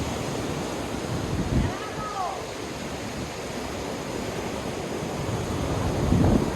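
Atlantic Ocean waves wash against the coast at Albufeira, a soft, steady surf hiss with gentle wind noise over the microphone and a faint swell near the end.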